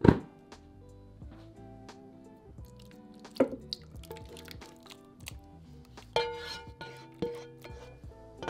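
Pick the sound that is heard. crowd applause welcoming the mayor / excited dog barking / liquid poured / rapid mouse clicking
liquid poured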